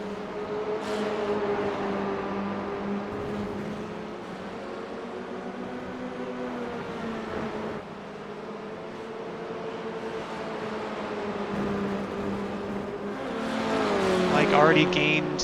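Formula 4 race cars in a racing game at Motorsport Arena Oschersleben drone with steady, layered engine tones through a tricky corner section, and a rising whine swells near the end.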